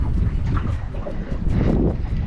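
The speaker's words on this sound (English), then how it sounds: "Bit windy at the moment." Strong wind buffeting the microphone aboard a small fishing boat on the water off Sydney, a loud blustery rumble with gusty surges, no speech.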